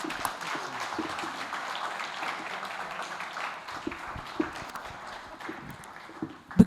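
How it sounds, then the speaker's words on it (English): Audience at a quality improvement leadership session rising to applaud, with moderate scattered clapping, shuffling and footsteps of people standing, and a few sharp bumps and knocks near the end. "Let's all arise and just give a warm, warm round of applause"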